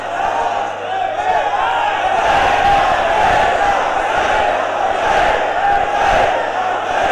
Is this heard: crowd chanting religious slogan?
yes